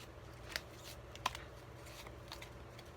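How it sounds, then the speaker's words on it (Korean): Tarot cards are shuffled softly by hand, a faint papery riffle with two sharper slaps standing out against a low, quiet background. "제가 다시 한번 카드를 섞어서 보조 카드"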